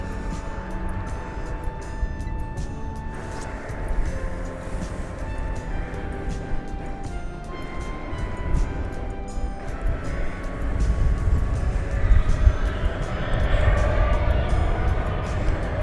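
An airplane takes off from runway 17 Center at DFW Airport at night, a distant low rumble that swells toward the end under steady background music.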